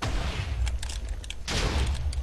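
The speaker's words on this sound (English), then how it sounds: "we're getting to see the other cannon going off from Oddmast" A cannon firing in the Minecraft video game, heard as a rolling, rumbling explosive burst with a second loud blast partway through, dense low boom filling the short span without speech.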